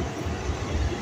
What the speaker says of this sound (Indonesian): suara KRL lewat